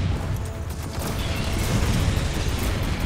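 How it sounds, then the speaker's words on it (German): Rocket explosions rumble in the video game Gears of War 4, a sustained, loud, roaring blast with crackling debris and a deep low-end boom, without speech. "Wie geil die Explosionen aussehen."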